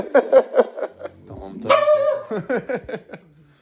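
An Italian Shepherd dog barks in quick bursts close by, mixed with whimpering yips and a person's voice calling out.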